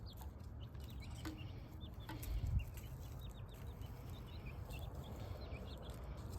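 Young chickens around a cage give soft, repeated high chirps and clucks over a steady low background rumble, faint and somewhat distant, with a brief louder thump midway.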